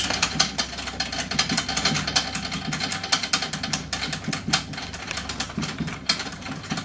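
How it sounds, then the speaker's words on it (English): Rapid, dense metallic ratcheting as drum lug screws are loosened in a cross pattern around a drum, a steady busy chatter that runs the whole time without any talk. "You go from that lug directly across over to this lug, all the way around the whole drum"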